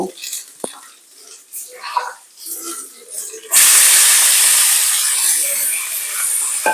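Tomatoes drop into hot oil already tempered with mustard seeds and dried chili, bursting into a loud, steady sizzling hiss that follows some quieter clinks and movement and gradually eases off.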